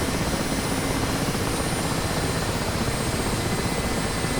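An Mi-8 helicopter engine with the throttle at ground idle, a loud, steady turbine whine and roar heard close up, sustained and unchanging, with no voices.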